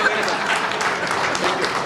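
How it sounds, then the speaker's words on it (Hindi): Audience applause at a fundraising dinner for a hospital in Canada, a brief burst of dense clapping from a crowd close by, steady throughout, with some voices mixed in. "जब तक ये चेक ना देते तालियां बजाते रहिए आप लोग।"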